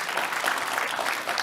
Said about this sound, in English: we're going to be clapping